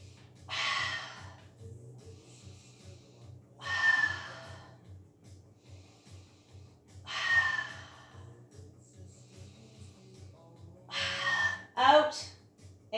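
Pilates instructor breathing during a mat class: four strong, airy breaths spaced a few seconds apart, close and clear over a low steady hum, with a brief vocal sound near the end.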